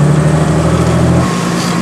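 A tuned BMW 7 Series engine revving hard at high rpm, a loud, dense roar held close and continuous, with its low drone shifting partway through.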